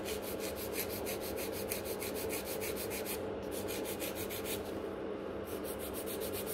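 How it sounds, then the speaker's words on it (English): Gel nail tips being scratched with a file to roughen them, a steady continuous rasping with a regular stroke rhythm that is close and fairly loud throughout, with no voice. "For the gel, we always need either a rough surface or a sticky surface, so that's why I'm scratching the tips."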